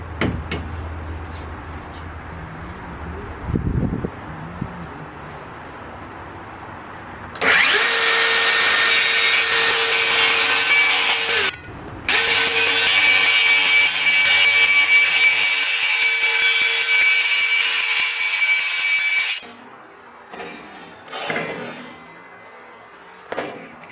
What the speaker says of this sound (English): I set my jigsaw to the depth that I needed to cut, so I can cut right across my sawhorses